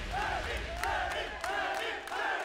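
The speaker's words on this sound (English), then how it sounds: "The crowd is getting hyped. They're getting excited." A live esports crowd at the Tekken World Tour 2019 Finals cheers and shouts, a steady roar of many voices with rising yells throughout.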